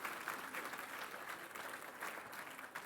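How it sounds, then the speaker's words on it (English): Diners at a polo hall of fame induction dinner applaud the servers and cooks, a fairly faint, steady patter of many hands heard from a distance. "I'd like everybody to give a round of applause to the servers and the cooks and everybody that brought the dinner for you"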